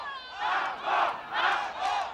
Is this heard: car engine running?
no